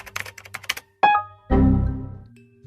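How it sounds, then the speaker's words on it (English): A computer keyboard clatters with a quick burst of key taps, followed by two heavier thunking strokes, close and crisp with no one talking. "He typed a command to try to get a response from his server."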